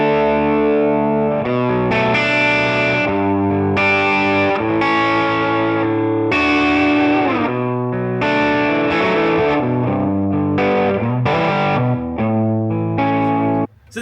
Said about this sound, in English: So this is full volume on that bridge pickup